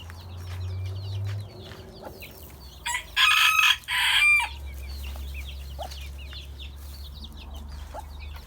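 Chickens and chicks in a coop at feeding time peep and cluck in scattered bursts near and far, while a rooster's crow breaks out loudly midway over a low background hum.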